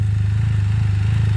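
A Can-Am Spyder F3-S fitted with an Akrapovic exhaust gives off a deep, steady, throbbing exhaust rumble close up, loud and even with no voices.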